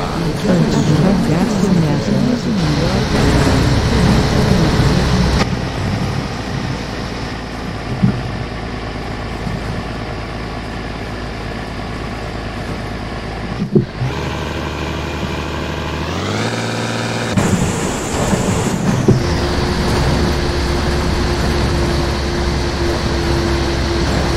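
A bus engine with a faulty gearbox in the OMSI bus simulator drones steadily and loud, dips abruptly, then revs up in rising steps before settling into idle, with someone talking over it throughout.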